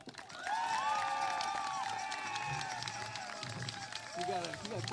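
Crowd noise at a school district graduation ceremony, a broad steady wash of voices and cheers that swells after a quiet start and carries through, with brief whistle-like shouts rising over it.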